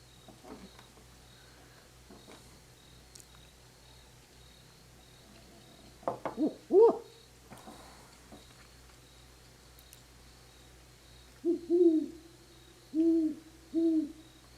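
Owl giving its classic storybook who call, soft low hoots near the middle and then a clearer series of three rhythmic hoots toward the end, over faint insect background.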